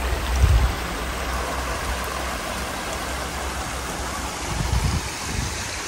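Middle Black Clough waterfall, a steady broadband rush of falling water filling the scene, with low rumbling gusts near the start and end.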